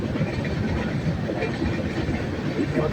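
A Deccan Express train runs on rails, a continuous loud rumbling roar with a faint rhythmic clatter, heard close throughout.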